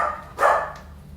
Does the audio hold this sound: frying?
no